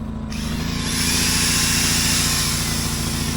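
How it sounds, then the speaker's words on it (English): A power drill bores into a steel beam at a train-car bridge build, a loud, steady high whine with a grinding buzz that starts abruptly and keeps going close by. "we're gonna try and drill it with the beam in there"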